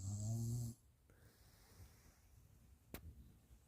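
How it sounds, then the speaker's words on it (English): Jack Russell puppy snoring softly, a faint, quiet breathing texture after a brief loud tone at the start, with one short sharp click near the end. "Oh, he's snoring."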